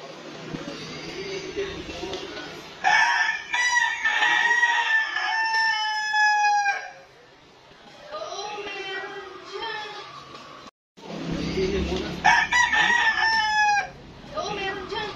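A Rhode Island rooster kept as a fighting cock in Tayabas crows loudly and close by, two long drawn-out calls separated by a pause, with soft clucking and faint background voices between them.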